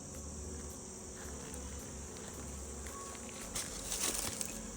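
Insects buzz steadily around an open beehive, a close, continuous drone that swells louder near the end with no talking.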